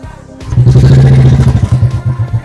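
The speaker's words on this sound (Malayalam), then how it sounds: "ബൈക്ക് സ്റ്റാർട്ട് ചെയ്ത് കഴിഞ്ഞു." A motorbike engine catches and settles into a close, steady idle, with a throbbing, pulsing rhythm that gently wavers for about two seconds after a brief rattly start.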